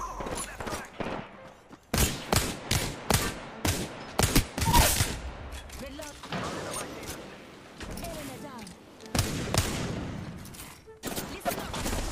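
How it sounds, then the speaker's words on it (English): Rapid bursts of gunfire from an Apex Legends match, sharp loud volleys clustered in quick rattling strings with short gaps, sometimes under a player's voice talking. "I'm getting shot at. Reload. Taking fire."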